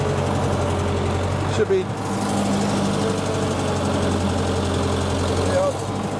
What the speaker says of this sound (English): Now all you hear is that Wisconsin engine's kind of loud.